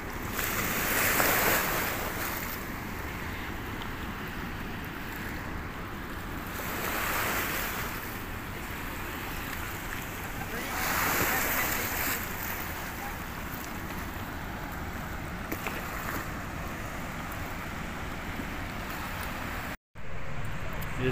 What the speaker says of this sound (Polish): Żegnamy się z wodospadem na Renie.